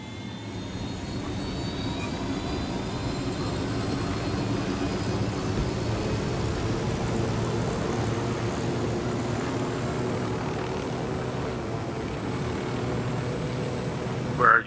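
Steady, loud aircraft engine drone from a plane piloted in Ghost Recon Wildlands, holding an even rumbling hum for the whole stretch with faint high whine and no voices until a brief bump at the very end.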